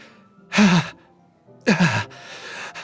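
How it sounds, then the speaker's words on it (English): Two sharp, breathy inhales in the Doki Doki Literature Club video game, each a short loud gasp through the teeth, separated by about a second of near quiet. "It sounds like breathing. A sharp inhale, like someone is sucking the air through their teeth."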